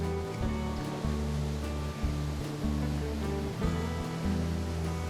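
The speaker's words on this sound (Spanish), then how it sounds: "escuchar el ruido del agua" A mountain stream in the Andes of Argentina flows steadily nearby, a broad rushing wash of water that keeps a constant level throughout with no voices.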